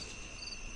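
Crickets chirp steadily through a deep night outside an old white-painted zamindar mansion, a continuous high, dense insect trill with no voices, holding level for under a second.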